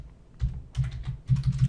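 Typing on a computer keyboard, close and soft, in uneven clusters of keystrokes with brief pauses between, no voices.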